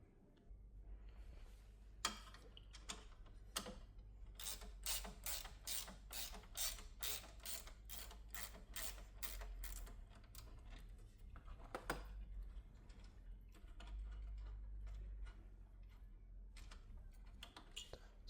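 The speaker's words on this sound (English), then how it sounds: "we're going to need a 12mm spanner, and we just will remove those bolts" A ratcheting 12mm spanner loosens horn bolts on a Toyota Hilux, giving rapid close clicking in bursts over a low background rumble, with occasional metallic knocks.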